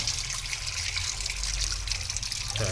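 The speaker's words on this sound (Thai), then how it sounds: "เดี๋ยวเราเปิดน้ำล้างก่อนนะครับ" Tap water running steadily to rinse apple snail feed for farmed paddy eels, a continuous close hiss and splash that shifts slightly near the end.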